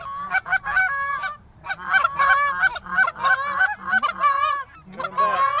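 Geese honk loudly and close in rapid, overlapping bursts, a dense flock calling almost without pause.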